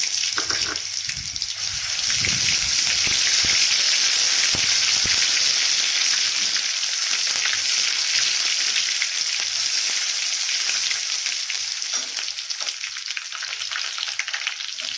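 Ginger-garlic paste fries in hot oil for a Marathi-style patvadi curry, a loud, continuous crackling sizzle that holds steady throughout, with no talking.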